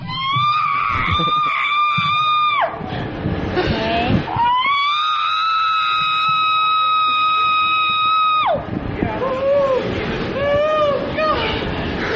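A woman screams in a recording played back during a radio talk show, giving long, loud, sustained shrieks that break off and then resume, over a busy, noisy background.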